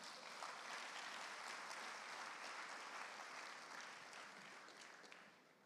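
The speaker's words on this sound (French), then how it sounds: "Oh, acclame Jésus pour ça" A church congregation applauds, a dense and steady wash of many hands clapping at moderate distance, holding level for nearly six seconds before easing off slightly at the end.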